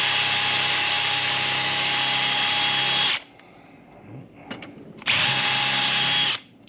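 Power drill cutting out spot welds on a broken metal part, a loud steady high whine for about three seconds, a pause with faint clatter, then a second burst.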